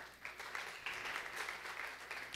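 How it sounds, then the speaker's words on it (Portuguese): Audience applause at a Brazilian women's health dialogue event, a steady wash of many hands clapping at moderate distance, fairly soft and continuous with no talking over it. "Uma salva de palmas, por gentileza."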